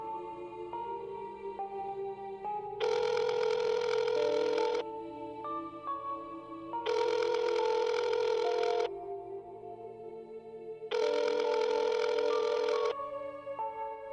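A telephone ring repeats three times in long, loud bursts with steady pauses between them, played over soft background music during a phone call.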